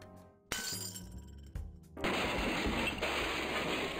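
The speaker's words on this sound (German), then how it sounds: "Potztausend, das ist Glas!" Glass shatters in the video game Edna bricht aus: a loud burst of breaking glass, then another crash, giving way to a sustained bright crackling and tinkling of shards that lasts to the end.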